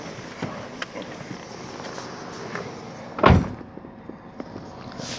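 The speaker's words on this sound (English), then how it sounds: "close the door." The door of a 2010 Chevy Cobalt LT shuts with a single solid thud partway through, standing out from a low, steady background hiss.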